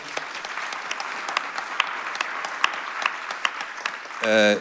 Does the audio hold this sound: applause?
yes